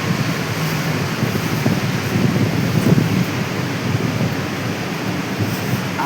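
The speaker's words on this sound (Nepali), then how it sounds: "यस्तो हावा चलेको छ" Wind gusts outdoors on a hot day, a steady rough rumbling buffet across the microphone that swells slightly near the middle.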